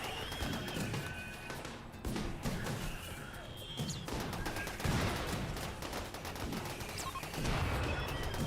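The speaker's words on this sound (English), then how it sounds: "You just start firing." Gunfire in a video game battle, with rapid repeated shots and bursts, heavy thuds and crashes layered over dense, continuous battle noise at moderate loudness.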